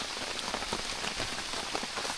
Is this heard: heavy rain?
yes